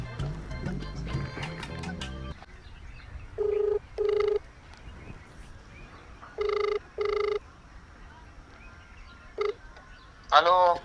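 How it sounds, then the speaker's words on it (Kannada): Phone dialing to call a bank manager over a loan recovery: several short tonal beeps in pairs, followed by a brief burst of ringing, after louder talk and background sound at the start. "ಮ್ಯಾನೇಜರ್ಗೆ ಫೋನ್ ಮಾಡ್ಬಿಡ್ತೀನಿ ತಡಿ"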